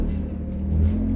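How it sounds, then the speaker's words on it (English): A Jaguar S-Type's 3-litre AJ30 V6 engine rumbles at idle, then briefly rises in a short rev, deep and close, with no talking. "So it's a 3-litre AJ30 from a Jaguar S-Type."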